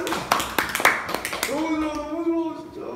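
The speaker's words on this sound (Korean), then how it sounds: "박수!" A few scattered hand claps in a Korean Bible history class, brief and close, quickly giving way to a voice talking over them.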